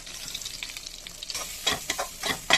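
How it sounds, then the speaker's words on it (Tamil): Sesame seeds and grated coconut roasting in ghee in a pan, a soft crackle that grows busier toward the end with several quick stirring scrapes. "நெய் விட்டு எள்ளும் தேங்காயும் வறுத்துற வேண்டியதான்."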